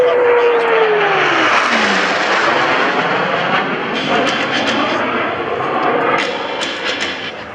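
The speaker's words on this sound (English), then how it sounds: "Blue Angels 5 and 6 are approaching the flight line in a line abreast formation at 400 miles per hour." US Navy Blue Angels jets 5 and 6 approaching in line abreast formation at 400 mph at a joint services open house: a loud, continuous roaring jet rush with a falling Doppler whine, a commentator's amplified voice over it.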